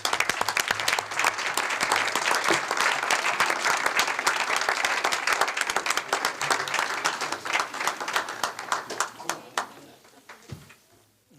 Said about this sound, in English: please join me again in giving them a warm round of applause for their achievement